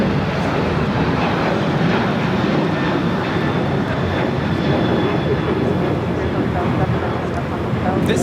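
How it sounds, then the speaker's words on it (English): An American Airlines Boeing 737-800 takes off at LAX, giving a steady, broad engine roar that holds constant throughout with no obvious rise or fall. "This is American Airlines 1006 taking off to Chicago O'Hare, the 737-800"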